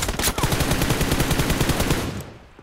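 Rapid machine gun fire in PUBG Mobile during a team deathmatch, a loud, close, continuous burst of evenly spaced shots that stops near the end.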